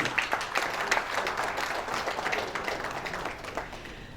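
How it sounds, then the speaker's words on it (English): Audience applause for a guest being escorted onto the stage at an MSME business meet: a moderate, continuous spread of many hands clapping, steady throughout with no voices over it. "Let's give Shri Hari Shankar a huge round of applause."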